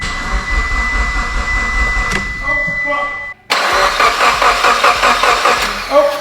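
A Mitsubishi Evo X with a knocking engine cranks and fires for the first time, its starter whirring before a brief cutout and then a loud, rough idle close by.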